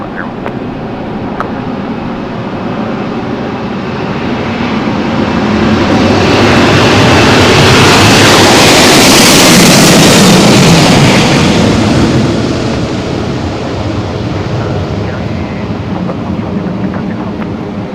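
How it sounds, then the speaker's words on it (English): An Air France Airbus jetliner, flight 499 for Paris Charles de Gaulle, takes off at St. Maarten's airport, a loud broad jet roar that swells to a peak and then slowly fades as it climbs away. "Au revoir, there she goes, folks. Air France 499 on its way to Paris Charles de Gaulle"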